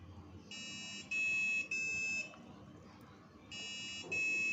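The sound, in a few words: gas leak detector buzzer alarm sounding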